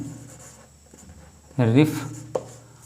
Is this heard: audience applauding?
no